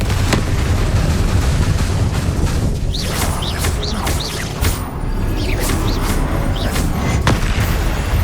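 Loud, dense booming blasts from a Confringo spell in Hogwarts Legacy, with repeated sharp impacts over a constant roar of game effects and a few whistling magical tones.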